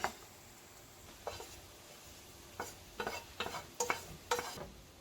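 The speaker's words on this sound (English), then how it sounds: "So I'm going to put in sweet corn and peas. Together with our sausage." Sweet corn, peas, sausage and beef are stirred into Cameroonian fried rice in a pan: a soft sizzle under a series of quick scraping spatula strokes, irregular and clustered toward the end, quiet and close.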